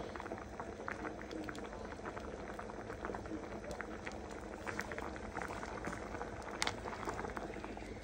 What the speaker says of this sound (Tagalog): Pakukuluin pa ho natin ng konti